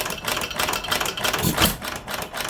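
A Stover KE 1 1/2 hp hit-and-miss engine runs steadily nearby with a fast, busy mechanical chatter and rhythmic pulsing, one stronger thump near the middle, and no voices.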